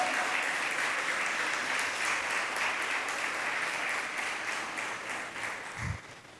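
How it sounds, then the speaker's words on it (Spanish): Sustained applause from a large crowd at a church service, steady and dense, fading slightly toward the end before a low thump. "dale otro fuerte aplauso al Señor"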